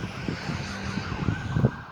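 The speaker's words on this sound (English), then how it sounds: "Sound like the ambulance is having a busy day." An ambulance siren wails steadily in the distance over a low traffic rumble.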